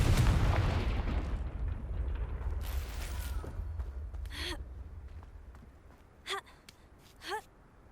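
A Confringo blasting spell in Hogwarts Legacy goes off with a loud, broad boom at the start that rumbles and slowly fades, followed by a couple of short breathy gasps later on.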